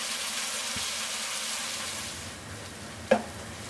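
Sliced onions fry in about half a cup of oil in a kadai, a steady close sizzle and hiss that eases slightly before a single sharp utensil clink near the end.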